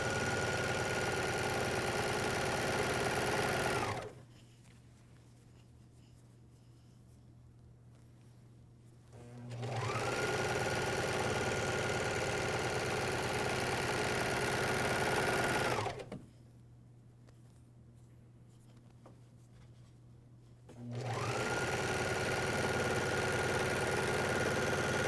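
A MyLock 454D serger stitches the side seams of pajama bottoms with a steady, close whirring hum in two long bursts, separated by quiet pauses filled with a faint low drone.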